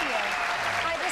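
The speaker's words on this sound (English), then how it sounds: "Kelly Ripa just walked into the studio to tumultuous applause" Dense, continuous applause from a morning talk show studio audience, loud and close, with a murmur of voices mixed into the clapping.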